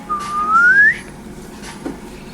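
A woman whistles a single rising tone as a playful sound effect while painting her nails with Dazzle Dry Lavender Parade polish, close and clear over quiet room noise, with faint rustles afterwards.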